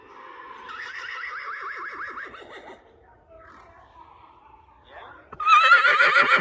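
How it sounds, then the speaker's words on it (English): Recorded horse neighing played back outdoors at a horse ranch: a long, wavering whinny, followed by a quieter pause and then a louder, shriller neigh near the end. "play a horse neighing sound"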